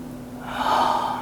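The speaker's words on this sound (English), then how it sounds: "Taking one more full breath here." A single deep, audible inhale taken while holding a yoga pose, close and breathy, rising then sustaining over a faint low hum.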